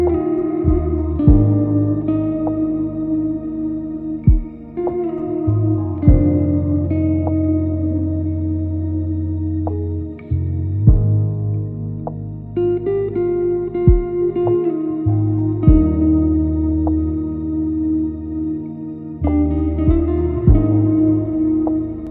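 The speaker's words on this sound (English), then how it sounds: "let's stick on a nice reverb" Sustained electric guitar chords and single notes ring out, swimming in a large, washy reverb that lets each strum bloom and linger.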